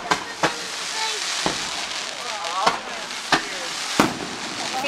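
Macy's fireworks burst repeatedly at irregular intervals, sharp booms cracking over a steady crowd murmur and scattered voices.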